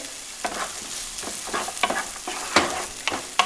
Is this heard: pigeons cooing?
no